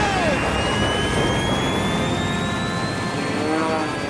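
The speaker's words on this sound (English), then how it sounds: "Gentlemen, start your engine!" Formula One class racing airplanes start their engines at the Reno Air Races, a continuous loud, close whine and roar with rising and falling pitch tones and no pause.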